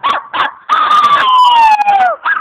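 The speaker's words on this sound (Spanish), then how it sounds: "El perro." A dog gives two short yips, then a long, loud howl that slowly falls in pitch, and ends with another short yip, all close up.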